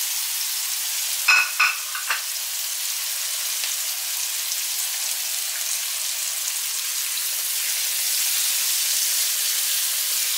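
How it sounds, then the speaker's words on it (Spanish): Chopped red and green peppers fry in a pan with a steady, close hissing sizzle, broken early on by a few short clattering stirs, then settling into an even crackle with no voices. "Y vamos a dejar que esto se fría bien"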